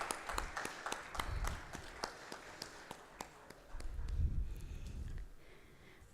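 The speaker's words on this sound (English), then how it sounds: "can we have a bigger round of applause" Faint, scattered applause from an audience at a maritime sector event, with sparse claps in an otherwise quiet hall.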